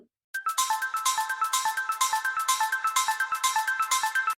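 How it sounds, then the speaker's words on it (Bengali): A phone rings for an incoming call: a loud, bright electronic ringtone plays a fast repeating melodic pattern of short tones, heard alone and without pause for about four seconds. "আবার ফোন এলো"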